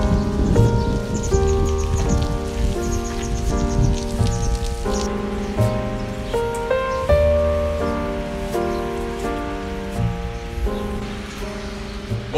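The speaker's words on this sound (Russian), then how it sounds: "Сегодня на улице дождливо, дождь, гроза, гром." Rain falls outdoors during a thunderstorm, a dense steady patter that runs throughout alongside tonal musical sounds, with no voices.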